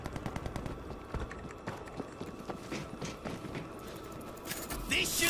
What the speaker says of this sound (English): Auto turret set!